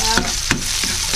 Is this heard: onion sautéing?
yes